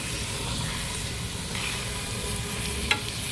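Sour-sweet-spicy olive pickle sizzles steadily in hot oil in a pot as it is stirred, a continuous close frying hiss with a brief clink near the end.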